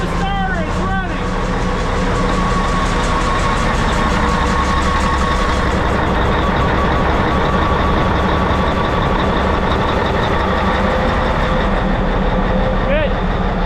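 Rebuilt Caterpillar engine in a mining truck catching on the starter and then running steadily, a loud continuous diesel rumble with people talking over it.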